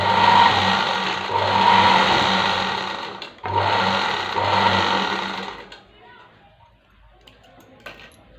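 A sewing machine stitches a cloth cross strip in two close, rapid whirring bursts of a few seconds each, followed by quieter handling sounds and a voice speaking.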